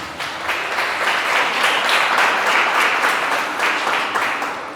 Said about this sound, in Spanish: Gloria a Jesús, un aplauso para él.